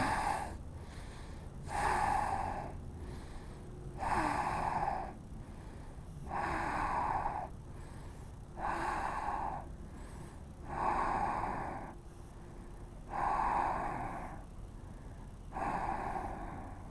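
Slow, deliberate breathing during a yoga flow class, with about eight long audible breaths in a steady rhythm, each a loud, airy rush close to the microphone, with no speech.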